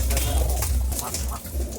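A pair of pigeons coos steadily in low, throaty murmurs, close by, with no talking over them.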